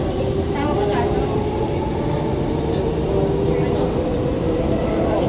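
Ride aboard an Alstom Movia R151 MRT train in Singapore, a loud steady rumble of the carriage with a droning hum throughout, heard close from inside with no one talking.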